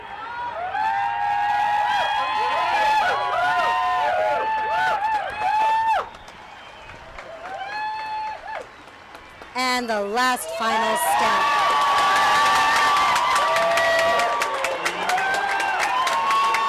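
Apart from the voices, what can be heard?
crowd cheering and applauding a tightrope walk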